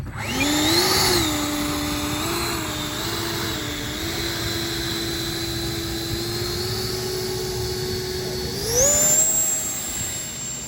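An FMS 80mm BAE Hawk RC model jet's electric ducted fan whines at a high, steady pitch, surging at the start and swelling sharply again near the end as it takes off, close and loud with no speech.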